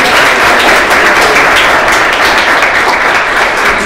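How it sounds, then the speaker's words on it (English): A debate audience breaks into a loud, dense round of applause, many hands clapping steadily and evenly throughout, with no voices over it. "please, a round of applause."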